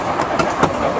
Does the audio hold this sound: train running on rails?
yes